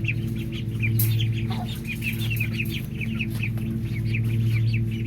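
Poultry calls ring out as a flock of ducks is let out of their coop, a busy, overlapping chatter of clucks and squawks heard close over a steady low mechanical hum.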